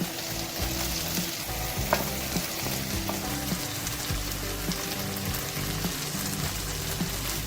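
Carrots and capsicum fry for chicken chow mein, a dense, loud, continuous sizzle with constant stirring and scraping in the pan, close up with no voices.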